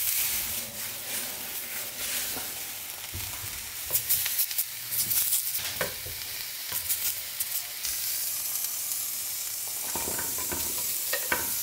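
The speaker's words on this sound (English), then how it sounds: "get our cast iron pan on medium-high heat and put everything in there" Habanero hot sauce vegetables sizzle in a dry cast iron pan over medium-high heat, a continuous hiss broken by repeated stirring clatters and scrapes, close and fairly loud with no talk.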